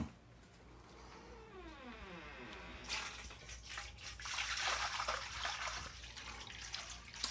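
Water pours into a dog's bowl, a steady splashing stream that starts partway through after a quieter opening with a faint rising tonal sweep, staying fairly close and continuous to the end.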